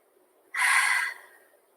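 A single deep breath during a yoga class, a loud breathy exhale or sniff-like rush of air lasting about half a second, close to the mic, then tapering off into quiet.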